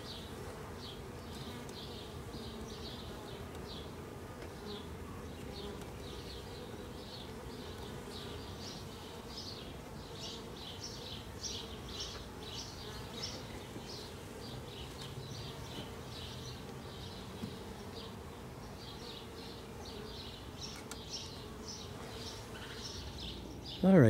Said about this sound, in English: the bees seem to have adjusted quickly. They're not flying around all over the place.